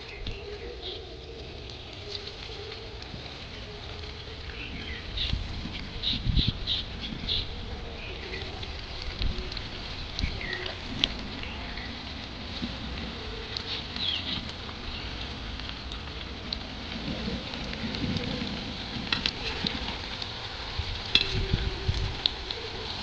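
Coated potato snacks frying in hot oil in a wok: a steady bubbling sizzle with crackling pops and occasional stirring clatter, moderately loud and continuous throughout.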